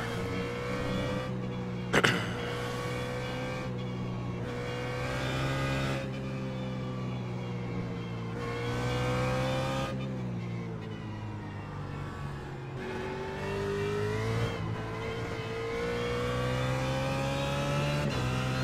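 A BMW GT3 race car engine in iRacing at Circuit of the Americas revs and shifts through gears, a loud continuous whine climbing in pitch, dropping at each upshift, with a sharp click early on.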